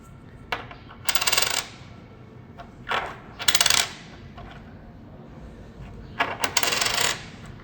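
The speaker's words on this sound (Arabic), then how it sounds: "طب لو قلبنا كده الجنيهات" Egyptian pound coins being flipped and handled, giving bursts of bright metallic clinks and jingles that repeat several times with quiet gaps between them, close and fairly clear.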